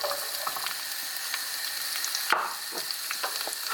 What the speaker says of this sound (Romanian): Uite, a început să sfârâie. Acum pun restul de ceapă.